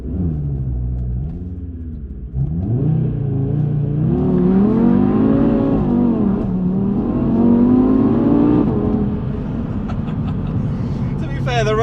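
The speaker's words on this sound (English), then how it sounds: "I'll show you a quick launch control." A 2019 Audi TT RS with four-wheel drive makes a launch-control start on a wet, damp road. The engine holds a low rumble, then revs hard and climbs through repeated surges of acceleration, with someone talking over it.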